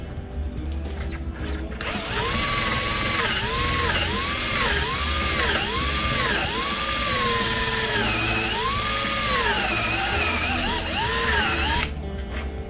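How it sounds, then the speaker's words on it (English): A power drill fitted with a 3/8-inch bit bores a square hole into the top of an axe, its close, loud motor whining and dipping in pitch in repeated surges for about ten seconds before stopping. "You're drilling a square hole in the top of this."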